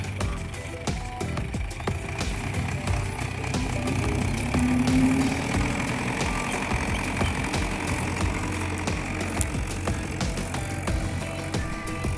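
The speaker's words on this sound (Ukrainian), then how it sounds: "Трактор." A tractor engine chugs at idle in a field during plowing, a continuous low rumble with steady knocking that stays loud and close throughout, with no talking.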